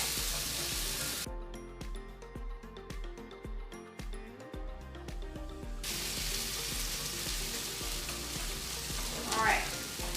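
Birria quesa tacos fry in a pan with a loud, steady sizzle and crackle, briefly joined by scraping and tapping as they are pressed down.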